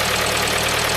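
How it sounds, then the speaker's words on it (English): A 2013 Ford Focus sedan engine idling after an oil change, a close, loud, steady hum with a faint regular low pulse throughout. "running the engine for a couple of minutes just to circulate the oil"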